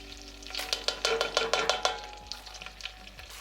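Butter and half a cup of chopped onions sauteing in a pan for an old-fashioned corn chowder, a steady close sizzle broken by rhythmic scraping and stirring strokes.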